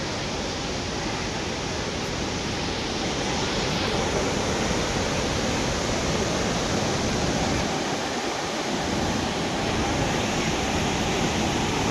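Steady, loud roar of a waterfall in the Mandya–Chamarajanagar district, a dense broadband rush of falling water that fills the whole stretch without letup, close and continuous.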